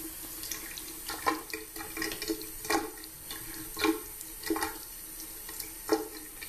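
Water runs from a tap in uneven splashing bursts, rinsing soapy water off bees from a bowl trap, close by in a small room.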